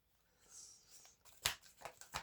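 Oracle cards are shuffled close up in a few quick, soft riffling bursts.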